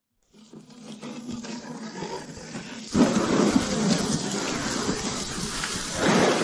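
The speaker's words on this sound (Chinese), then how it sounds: "又是熟悉的大雨。" Heavy rain and rumbling thunder from an animated Chinese fantasy cultivation series swell in after a brief silence, growing into a loud, continuous roaring downpour with a sharper surge midway and another near the end, with no speech.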